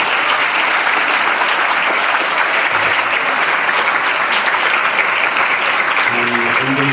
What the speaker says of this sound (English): So once again, a big round of applause for this beautiful.